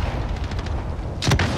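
An RPG rocket launcher fires in a video game battle: one loud, sharp blast near the end of a short stretch of rumbling gunfire and background noise.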